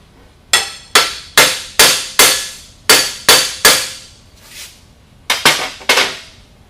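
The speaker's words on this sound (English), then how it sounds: "Now I can drive my shaft into this new bearing without damaging the bearing. I'm going to use a copper hammer to do this." Copper hammer driving a shaft into a new bearing, about a dozen sharp ringing metallic blows in a quick, slightly uneven rhythm, loud and close with a short pause before the final few strikes.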